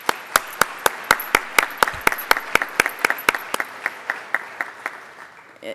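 Sponsors at an education awards celebration get sharp, evenly spaced claps from a small group, close and distinct, gradually slowing and softening toward the end, with no talking.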